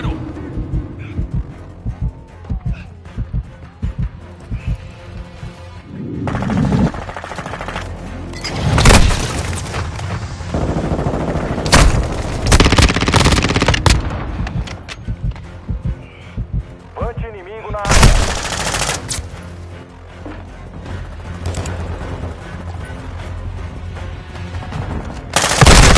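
Gunfire in Call of Duty: Modern Warfare 2 multiplayer: rapid automatic bursts, sharp single shots and heavy booms, loud and close, with intermittent voices over the battle.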